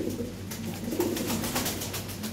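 Lahori and Sirazi pigeons coo in a pen, a steady low warbling coo repeating close by over a constant background hum, with no talking.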